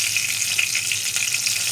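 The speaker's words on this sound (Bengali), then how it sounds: "ভাজা হয়ে গেলে ওই তেলে একে একে তেজপাতা, এলাচ, দারচিনি আর জিরে ফোড়ন দিয়ে দেবো।" Bay leaf, cardamom, cinnamon and cumin tempering sizzle in hot oil for a Bengali fish kalia, a bright continuous crackling fry with small pops, close and steady, no talking.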